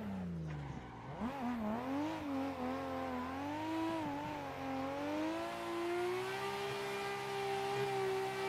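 Car drifting in Assetto Corsa with a wheel, the engine held at a high whining rev that rises and wavers steadily for several seconds, close and loud with tire noise underneath.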